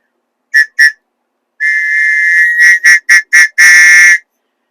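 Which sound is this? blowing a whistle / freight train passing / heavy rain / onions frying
blowing a whistle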